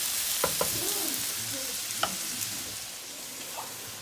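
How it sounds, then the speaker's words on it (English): Food browning in a hot pan, a steady close sizzle with a few sharp clicks and scrapes of stirring, alone with no talking. "I'm gonna brown this up a little bit before I put that seasoning mix over there in here"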